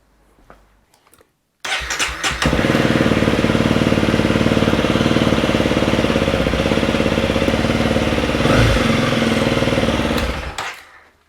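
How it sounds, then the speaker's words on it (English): After a moment of quiet, a Honda CRF300L motorcycle engine cranks and fires, then settles into a loud, steady idle that runs close by until it cuts off. "last thing is to just start the bike up, make sure that we still have a working engine"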